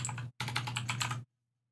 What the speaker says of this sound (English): I know Max loves my keyboard.